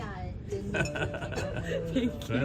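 Glasses clink together in a toast at a Cantonese restaurant during a Mother's Day family dinner, a few bright chimes mixed with cheerful talk and a chuckle nearby.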